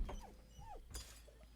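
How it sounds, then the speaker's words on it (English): A dog companion in the fantasy role-playing game Baldur's Gate 3 gives a few short, bright yips and barks in quick succession at moderate volume, with no speech. "Scratch barks merrily in something like agreement."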